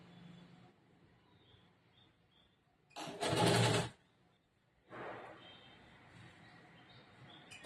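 Sewing machine stitching a blouse, two short bursts of motor whir and needle running, the first loud and close, the second softer, separated by quiet pauses.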